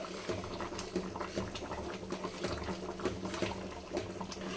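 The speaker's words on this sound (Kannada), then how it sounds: "ಚೆನ್ನಾಗಿ ಕುದೀತಾ ಇದೆ" Sprouted-bean sambar bubbles in a pot, a close, soft burbling with irregular pops and gurgles repeating throughout.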